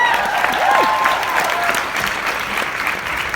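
Loud audience applause filling the room, steady clapping with a few whoops and cheering voices rising over it near the start.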